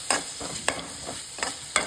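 Egg keema masala frying in a pan with turmeric and salt, a soft steady sizzle broken by a few sharp stirring scrapes, close and moderately quiet with no voices.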